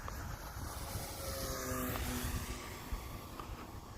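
A Mustang model airplane passes low over trees, its propeller engine droning steadily and rising to a sustained buzz that peaks midway before easing off, with outdoor ambience underneath and no voices.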